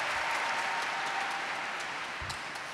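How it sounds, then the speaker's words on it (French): Sustained crowd applause, dense clapping that gradually eases off slightly, with no one speaking over it. "Ceux qui votent pour Oh My God, le chatbot, en temps réel, vous applaudissez maintenant."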